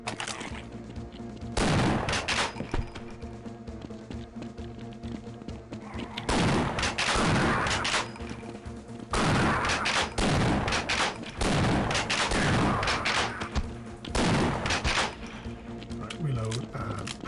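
Shotgun blasts in the video game Half-Life: Blue Shift, fired at heavy headcrabs: several loud, booming shots in bursts a few seconds apart, with a steady game background between them.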